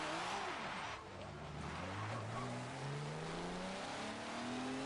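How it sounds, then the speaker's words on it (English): A V8 Supercars race car spins out at Circuit of the Americas in Forza Motorsport 7. The engine drones loudly and rises in pitch as revs climb, with tyre squeal and skidding blended into the steady roar. "We've been spun out"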